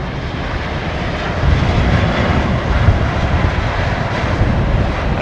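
An Airbus A380 landing and braking at London Heathrow Airport, a steady loud roar of engine and rushing air that swells slightly and holds, broad and continuous with no voices.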